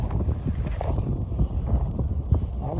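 Wind buffets the microphone beside a river in Memphis, a steady low rumble filling the whole stretch with gusty swells and no clear gaps.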